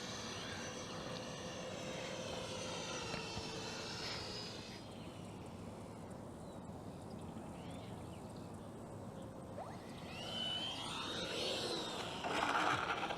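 An FMS 64mm EDF F-16 Fighting Falcon RC jet whooshes past as it comes around to land, its ducted-fan whine rising and fading with distance, then swelling louder again near the end.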